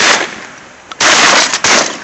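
Shotguns fire during a sandhill crane hunt in Oklahoma: loud, close blasts that ring out, including one sharp shot and then another after a short pause.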